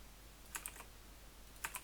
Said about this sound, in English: now I will type here